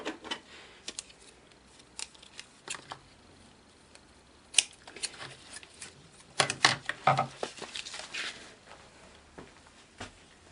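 Scissors snip paper for a handmade mini album in a series of faint, irregular clicks and cuts, with brief crisp bursts clustered toward the end in a quiet room.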